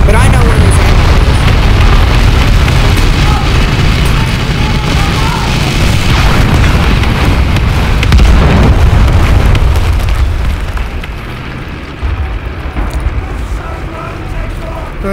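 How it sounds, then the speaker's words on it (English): Artillery shells exploding in a war video game, a sustained barrage of heavy, rumbling booms that stays loud and dense before easing slightly toward the end. "There's artillery fire."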